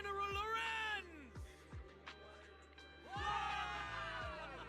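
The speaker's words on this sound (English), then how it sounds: "Cheers rise up from the gathered soldiers." Gathered soldiers cheering in the game Zenless Zone Zero, a crowd of whoops and shouted yells rising in two loud bursts, with a calmer gap of voices between them.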